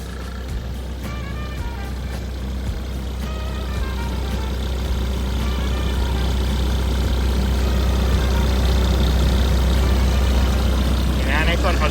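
A Caterpillar C4.2 diesel engine in a 12-ton Caterpillar 313D excavator idles with a steady low rumble, close by, while someone speaks over it.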